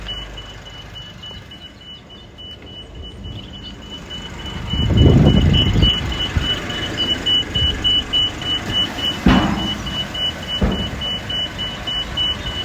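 The tipping gear on a 2016 Nissan Cabstar 2.5 dCi tipper truck whines steadily as the body lowers, with a surge of hydraulic rush partway through and a few sharp knocks afterward. A faint, regular high beep pulses in the background throughout.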